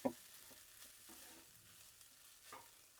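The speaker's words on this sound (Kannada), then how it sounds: "ಇವಾಗ ನೀಟಾಗಿ ಫ್ರೈ ಮಾಡಿ" Food frying quietly in a pan, a soft, low sizzle with a sharp utensil clink at the start and light stirring scrapes throughout, no voices.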